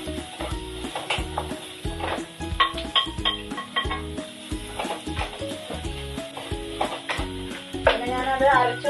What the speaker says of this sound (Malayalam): നല്ലോണം ഒന്ന് വഴറ്റി ഇട്ട് കൊടുക്കണം കേട്ടോ.